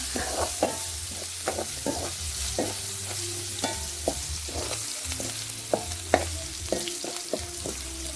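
Garlic and shallots stir-fried in a pan ahead of pickled mustard greens, a loud steady sizzle with rhythmic spatula scrapes and taps recurring about twice a second, close up and without talk.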